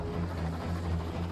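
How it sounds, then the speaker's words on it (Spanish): A steady, low droning hum of a helicopter, continuous and even for the short stretch, with no voices. "Helicóptero."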